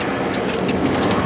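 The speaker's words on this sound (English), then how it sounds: "Got hail in the RFD." Hail falls steadily during a storm near Pontiac, Illinois, making a dense, loud, continuous patter on a vehicle, with no talk.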